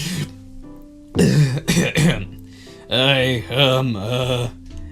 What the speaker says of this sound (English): I swallow hard and clear my throat.